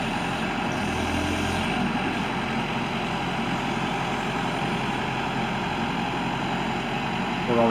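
A 2007 Lull 944E-42 telehandler, a 4-wheel-drive machine on solid tires, runs with a steady, loud, continuous diesel engine drone that holds even for the whole stretch, with no voices.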